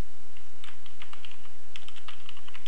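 Fingers tap on a computer keyboard in a quick, light run of clicks, close but fairly soft, over a faint background hiss with no voices.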